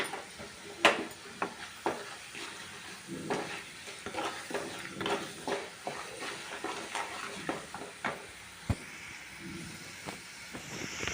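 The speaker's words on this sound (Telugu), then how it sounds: "తాలింపు గోంగూర ఇలా తాలింపు వేసుకుని చక్కగా ఇలా కలుపుకొని" Hot tempering with a pinch of asafoetida being stirred into Ongole-style gongura chutney. A spoon scrapes and clicks in an irregular, close rhythm over a faint sizzle, with no voices.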